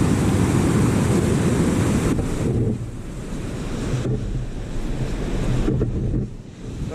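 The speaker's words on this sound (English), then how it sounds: "I just had 1 or 2 waves literally just come right up to here." Sea waves break and wash up a shingle beach on the North Norfolk coast in a steady roar, loud and close, with heavy wind buffeting the microphone and surges rising and falling.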